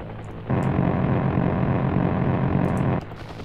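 A military helicopter in the combat game Heliborne gives a loud, steady rotor and engine roar that swells in abruptly and cuts off about three seconds later, with no distinct gunshots standing out.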